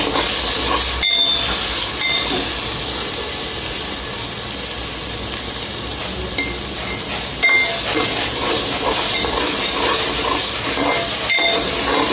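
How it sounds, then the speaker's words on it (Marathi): Masala fries in a pan for a mutton dish, a loud steady hissing sizzle that runs throughout, close up with no talking. "बघा मसाला छान फ्राय होतोय."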